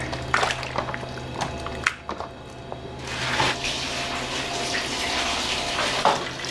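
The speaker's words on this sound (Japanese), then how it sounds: "まず一回これを選別して洗ってっていう作業からですね" A large batch of pork offal, including rectum, is washed in running water in a restaurant kitchen, with tap water gushing and splashing steadily and a few clattering knocks throughout.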